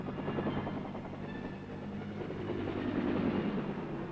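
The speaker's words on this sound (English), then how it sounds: "The Huey takes off like an angry hornet." A Bell UH-1 Huey helicopter takes off and flies, its rotor producing a loud, steady low thudding chop with a throbbing engine drone, close and continuous without speech.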